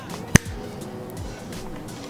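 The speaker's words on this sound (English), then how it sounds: "Rode, so this is the snap." A single sharp finger snap recorded close to a Rode microphone, one crisp isolated crack early on against a quiet room background.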